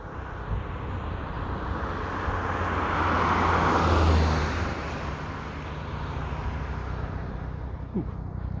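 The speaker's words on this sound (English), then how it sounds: "real helicopter" A real helicopter passing overhead fairly high up, a broad rotor and engine roar that swells to a peak around the middle and then fades, heard alone outdoors over open ground with low trees.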